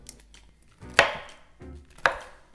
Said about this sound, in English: Start by chopping the peppers and removing the seeds.